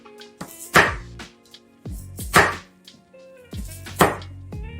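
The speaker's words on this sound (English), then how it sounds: "Let's cut our garlic" Knife chopping garlic on a cutting board, three bursts of quick, close, crisp chops separated by short pauses, with no voice present.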